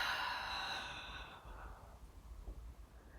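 A single long exhale during a core exercise, starting as a fairly strong, airy breath and fading softly over a few seconds, heard quietly and alone.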